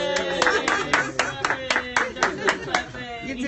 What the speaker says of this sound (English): He's going to clap for you there.